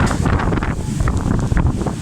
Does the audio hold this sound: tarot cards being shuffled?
no